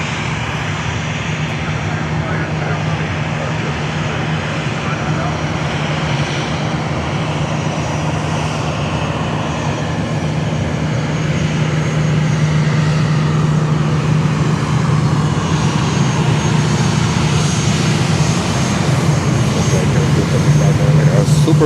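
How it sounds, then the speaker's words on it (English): An Air Canada Rouge A320 jet rolls past at Fort Lauderdale airport, its engines a steady, loud roar with a low hum that builds slightly near the end, while someone talks over it. "there comes Rouge. They're all rushing here. Look at that."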